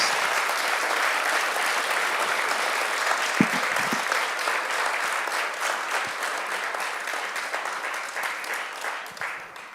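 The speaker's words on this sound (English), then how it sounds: "Let's have a round of applause." Sustained applause from an audience at the Collegiate Peaks Forum for a speaker, dense and steady for nearly ten seconds and tapering slightly at the end, with a brief low thump partway through.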